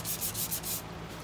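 Pine plate spinning on a lathe while 150-grit sandpaper rubs against it, a steady close scratchy hiss that pulses in short strokes and then eases to a quieter steady rub.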